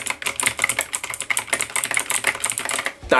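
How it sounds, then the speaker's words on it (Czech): Loud, rapid clicking from typing on a new Whiteshark keyboard with clicky switches, a dense run of close keystrokes lasting a few seconds with no talk. "Schválně, jak ta klávesnice zní"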